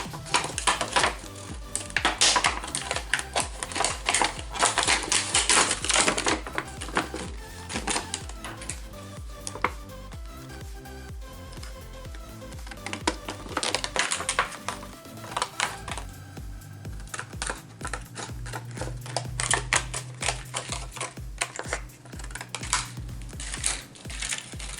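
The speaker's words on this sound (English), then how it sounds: "I'm going to take this old box. I'm just going to cut it down. Let me disassemble it first." An old cardboard box is pulled apart and cut down at a crafting table. Close, crisp tearing, crinkling and clicking bursts come in irregular clusters, with quieter pauses and a low hum later on, and no talking.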